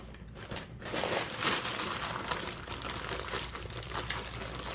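A plastic bag of frozen hash browns crinkles and rustles steadily for several seconds, faint and close, with crisp crackling and no voices.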